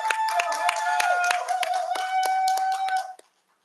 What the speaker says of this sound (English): I just want to give another round of applause for both of the presentations that we just heard